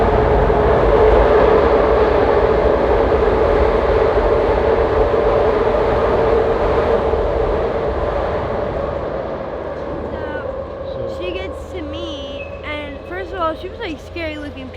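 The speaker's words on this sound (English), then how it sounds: "And this is the train's gonna come." An elevated train rumbles past on a city street in Kensington, a loud, steady roar that slowly fades over the last few seconds as squealing wheel and brake tones take over.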